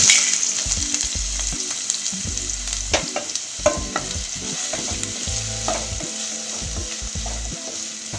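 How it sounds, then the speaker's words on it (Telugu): Chopped onions and green chilies fry in hot oil for a green beans and coconut dish, giving a continuous close sizzle broken by frequent stirring scrapes and clinks, with no voices. "ఇప్పుడు మిరపకాయలు, ఉల్లిపాయలు కట్ చేసినవి వేసుకొని వేపుకుందామండి."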